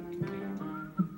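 A brief, soft whistle, a couple of short tones sliding into a steadier note.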